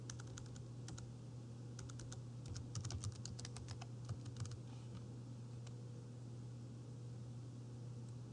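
Quiet, close clicking of computer keyboard keys as a title is typed, brief bursts of taps clustered in the middle over a steady low hum.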